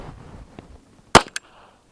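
A suppressed Colt rail gun fires a single subsonic round, a short sharp crack followed moments later by a smaller metallic click, set against a quiet background.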